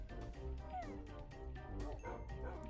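A dog barks and yips in the video game Minecraft, several short calls over a steady bed of game sound, with a little talking mixed in.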